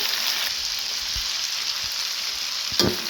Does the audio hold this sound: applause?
no